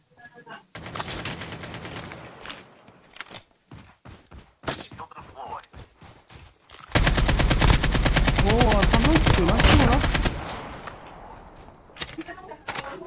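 Gunfire in the mobile shooter Call of Duty Mobile: quick rapid-fire bursts and single shots early on, then a long, loud, sustained stretch of automatic fire with an explosion-like roar, while players talk over it.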